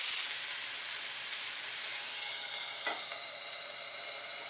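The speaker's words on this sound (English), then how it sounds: "So it's really being seared like that." Steady, loud sizzling and hissing, as of meat searing in a hot pan, with a faint clink midway.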